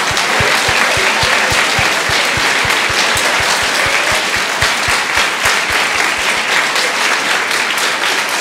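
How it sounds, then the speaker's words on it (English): A fall 2018 concert audience gives the boys' choir musicians a sustained, loud wash of applause that holds evenly from start to finish, with faint regular low thumps beneath it. "So if we can give another round of applause to all the musicians here."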